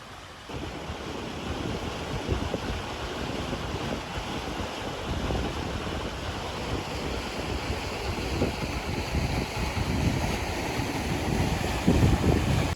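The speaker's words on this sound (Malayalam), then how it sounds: "നിരപ്പറമ്പ് റോഡിൽ തോട് നിറഞ്ഞ് റോഡിന് മുകളിലൂടെയാണ് വെള്ളം ഒഴുകുന്നത്" A flooded stream spills over a road after heavy rain, and the overflowing water makes a continuous broad rushing roar that stays even and unbroken from start to finish with no voices.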